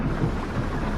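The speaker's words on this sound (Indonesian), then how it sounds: "Dan hujan pun turun" Steady rain with a low rumble of thunder, a dense continuous wash of rainfall filling the whole moment without any voices.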